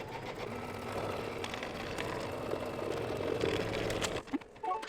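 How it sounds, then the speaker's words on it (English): An embroidery sewing machine stitches light fabric, tacking it down with a fast, steady mechanical chatter that runs close and continuous before cutting off near the end. "And it's just going to tack down that fabric."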